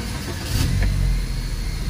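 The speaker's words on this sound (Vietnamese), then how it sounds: "Mở máy ra." Motorcycle engine turned over and settling into a steady idle, a continuous low rumble close by with a slight swell partway through, no talking.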